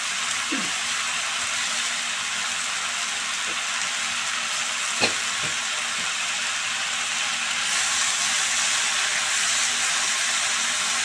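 Chopped spinach sizzling as it fries in a cooked-down spiced masala in a pan, a steady close hiss throughout with a couple of faint stir clicks, no talking.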